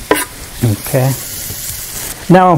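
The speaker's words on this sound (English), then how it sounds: "As soon as you drop the plantains in them, they're going to sizzle." Plantains sizzle in a very hot pan, a steady close hiss running underneath a man's brief speech.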